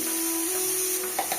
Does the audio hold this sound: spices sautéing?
yes